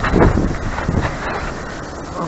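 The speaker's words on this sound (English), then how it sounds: "The wind isn't too bad." Wind buffets the microphone outdoors in a loud, steady rush with low rumbling gusts, briefly and without clear talk.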